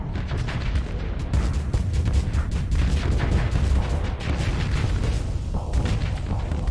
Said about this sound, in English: How'd you like the Gauss cannon?